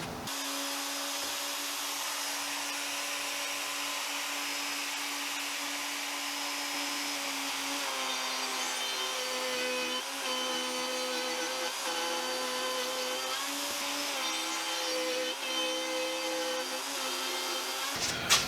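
A router cuts haunched tenons into wood boards for breadboard ends, taking shallow passes of about 1/8 inch. Its steady high whine runs close and loud for the whole stretch, with small shifts in pitch as the bit works through the wood.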